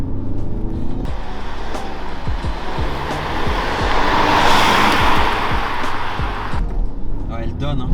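An Audi A3 with 150 horsepower pulls hard on a track lap, its engine roaring loud and steady with rising revs and wind rush, and a voice briefly heard at the start.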